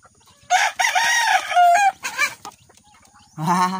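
Gamecocks in a backyard, with a loud nearby rooster crow followed by several clucks and shorter calls, and another crow starting at the end.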